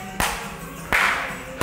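Two loud, sharp hand claps ring out about three-quarters of a second apart during a zumba dance workout, with a quiet room between them.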